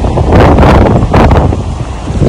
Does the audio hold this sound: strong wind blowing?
yes